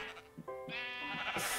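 A pink sheep bleats in the Minecraft video game, one drawn-out, wavering electronic bleat heard clearly and alone, with no talk.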